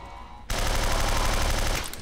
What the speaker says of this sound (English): Yep, definitely a guy shooting above me.